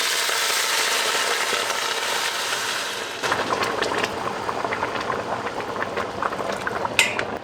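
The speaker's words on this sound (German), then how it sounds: "Da kann auch schon direkt vorgekochtes Wasser dazu." Pre-boiled water is poured onto rice frying in clarified butter, first a loud rushing pour, then bubbling and spattering as the pan boils up, with a light utensil clink near the end.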